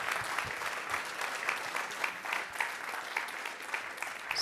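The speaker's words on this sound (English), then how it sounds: "Give a big applause." At a software conference, a studio-stage audience claps after a talk, steady and fairly distant, sustained for several seconds.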